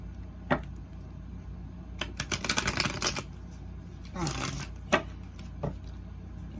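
Two quick bursts of riffling tarot cards, shuffled close up in a quiet room, with a few soft taps and handling sounds around them.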